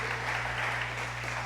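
A church audience at a Portuguese-language service claps briefly, a dense, steady burst of many hands over a low constant hum from the room's sound system.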